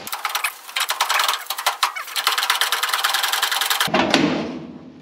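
A cutting tool whines and buzzes through a spot weld on a Pontiac Firebird quarter panel, a loud, continuous rattling drone close by that cuts off abruptly near the end, followed by a brief muffled clunk.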